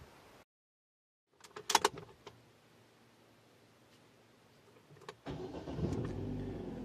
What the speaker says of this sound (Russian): Завел машину, завелась, все нормально.